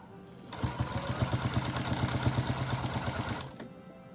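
A sewing machine stitches through a thick rag quilt, its needle thumping in a fast, steady rhythm for about three seconds, loud and close, then stopping.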